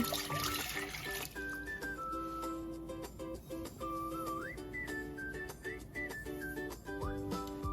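Water pours steadily into a container to make sugar water for a honey bee feeder, a continuous trickling splash with a rising pitch as it fills, alongside some clinking in the background.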